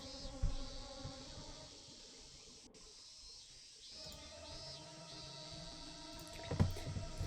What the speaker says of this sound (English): I could hear the cicadas crying far off in the distance.